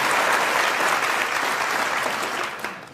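A talk show studio audience votes by clapping, with loud, dense applause that starts at full strength and fades out over the last second.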